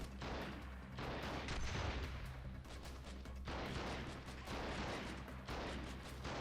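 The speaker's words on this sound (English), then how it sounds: "being shot again from somewhere." Gunfire from the PC strategy game Freeman Guerrilla Warfare rattles through a dense, continuous fusillade of mixed shots, fairly quiet and distant overall, with brief lulls between volleys.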